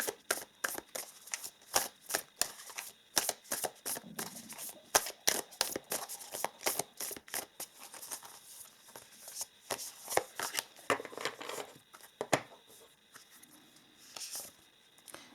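A deck of oracle cards being shuffled up close, with rapid bursts of riffling and flicking paper coming in irregular clusters and short pauses between them.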